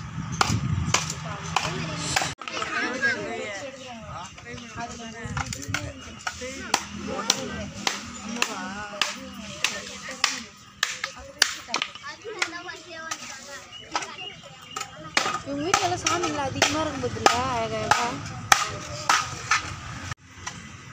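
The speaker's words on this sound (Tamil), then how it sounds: "அவங்களுக்கு எப்படி கட் பண்ணி மறுபடியும் உருக்கி செய்ய போகிறாங்க பார்க்கலாம் நம்ம." An old, battered aluminium vessel with holes and breaks is cut up for remelting, giving repeated sharp metallic chopping blows at an irregular pace, with people talking at times between the strikes.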